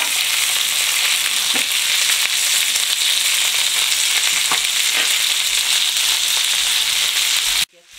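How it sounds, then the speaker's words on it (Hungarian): Food fries hard in a pan while it is basted with hot fat, giving a loud, steady sizzle and crackle that runs unbroken before cutting off abruptly at the end. "Forró zsíradékkal locsolom."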